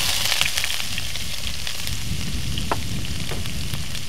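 Red onions frying in olive oil in a pan, a steady soft sizzle and crackle with occasional pops, heard alone at moderate volume.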